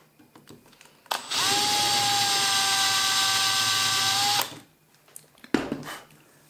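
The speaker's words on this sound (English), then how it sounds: "Running in reverse, the drill will not tear out the melamine" A power drill running in reverse bores through melamine board, one steady high whine of about three seconds that starts and stops sharply, with a few clicks and knocks before and after.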